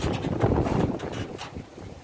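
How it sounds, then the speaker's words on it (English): Strong outdoor wind buffets the microphone in a steady, broadband rush with gusty swells, loud and close, and no voices are heard. "I don't know how we're going to go in this wind"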